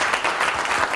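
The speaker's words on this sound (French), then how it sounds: "Allez, applaudissez-le, il faut lui donner un peu d'encouragement." Audience applause at a live business conference on the restaurant industry, a dense, loud, continuous clapping from many people close by, sustained through the short moment with no voices.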